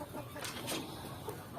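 Free-range village chickens cluck softly in the background of a poultry farm, faint and scattered, with low ambient noise and no talk.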